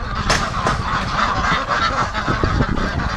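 A flock of Pekin ducks calling nearby, with loud, dense, overlapping honking quacks that carry on without a break.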